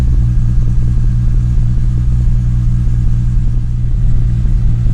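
Turbocharged Lexus SC300 engine idling while warming up, a loud, steady low rumble with an even pulse and no change in revs, close to the car.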